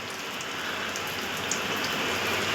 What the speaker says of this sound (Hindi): तो आज संडे के दिन हमारे यहाँ बारिश हो चुकी है